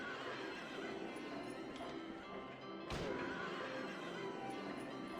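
A horse whinny from the merry-go-round in the video game Silent Hill 3, heard as one sustained neigh set over a dense, steady game soundscape, with a sharp thud near the middle.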